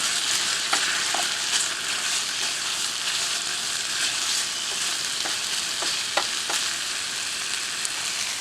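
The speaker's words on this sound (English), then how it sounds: "Time to cook up the beans for the tacos." Beans for tacos cooking in a pan at an outdoor campsite: a loud, steady frying sizzle runs throughout, broken by occasional stirring clicks, with no talking.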